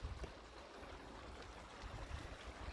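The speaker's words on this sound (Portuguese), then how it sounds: "Acompanhando aqui a travessia da balsa," Water runs and gurgles steadily around a small motorless river ferry crossing the current near Vila Llanquín in Patagonia, a faint, close, continuous flow with no voices.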